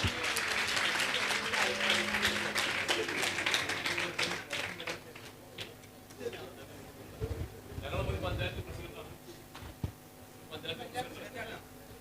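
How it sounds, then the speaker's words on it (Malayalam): An audience at a live mentalist stage show breaks into loud, dense applause that swells, thins out briefly, then returns in bursts, with voices talking over the clapping throughout. "എല്ലാവരും നല്ലപോലെ ഒരു ക്ലാപ്പ് ചെയ്യാം"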